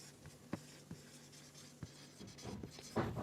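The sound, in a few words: writing on a board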